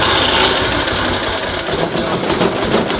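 A Citroën Méhari's small engine, recently tuned and running cold without choke, holds a steady, buzzy idle up close with a slightly uneven pulse and no talk over it.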